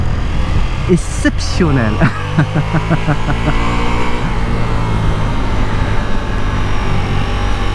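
A Ducati Multistrada V4S engine rumbles and hums steadily under loud conversation, with brief rising revs early on before it settles into an even drone.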